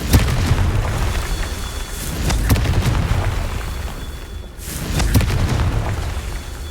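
Fire and blast spells go off in the video game Hogwarts Legacy. Several loud, close booming explosions follow one another, each with a short roaring decay, with no talking between them.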